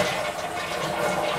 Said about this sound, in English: Hear it going down the toilet?